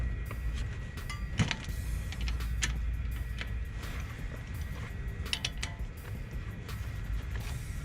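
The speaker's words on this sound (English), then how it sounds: "So I'm going to use my 3/4 inch socket and ratchet to remove those two bolts." Socket and ratchet, 3/4 inch, turning brake caliper bolts on a 2015-2020 Cadillac Escalade, heard as faint scattered ratcheting clicks and metallic ticks over a steady low garage rumble.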